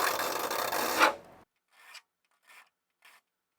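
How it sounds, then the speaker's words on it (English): A hand file rasps through a cutout in an aircraft rudder leading edge, one loud sustained stroke lasting over a second followed by three short, fainter scraping strokes separated by pauses. "I could try the file and see how that goes."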